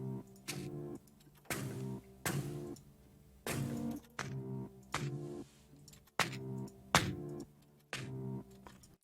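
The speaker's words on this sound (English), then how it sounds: "You can also change it to silk." Una Corda piano plugin set to a silk texture, giving soft felted notes with audible mechanical key and hammer noise; a dozen separate struck chords and notes in a loose rhythm, close and fairly quiet, with no talking.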